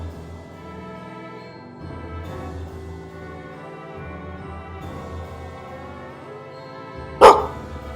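A dog barks once, sharp and close, near the end, after a low ambient drone during a funeral procession scene in an interactive picture book.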